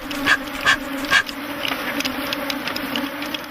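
Bees swarm around hives while beekeepers work along a line of hives, a steady droning buzz with three sharp, regular knocks near the start, loud and close, with no talking.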